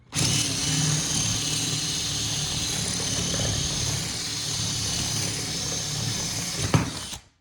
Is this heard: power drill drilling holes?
yes